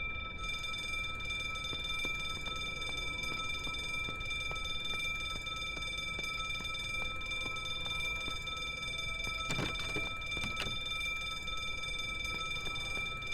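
An alarm bell rings steadily in a video game, a continuous high metallic tone held throughout with a brief louder burst of clatter near the end.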